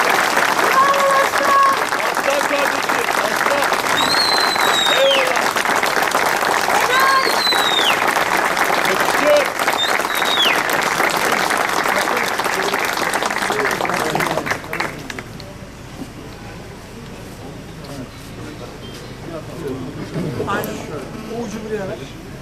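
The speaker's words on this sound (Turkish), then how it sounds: "Alkış." Loud, sustained crowd applause at an outdoor patriotic flag rally in Şile, with whistles and cheers mixed in, dense for about fifteen seconds before dropping to a quieter murmur of scattered clapping and voices.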